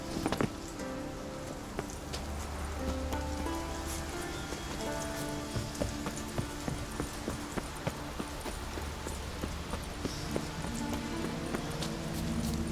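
Roach, a horse in The Witcher 3, gallops with quick, rhythmic hoof clip-clops over a bed of rain-like ambience, sounding near and steady at moderate loudness with music in the background.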